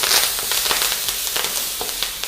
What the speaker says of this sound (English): I'm adding the shallots as well. The curry leaves.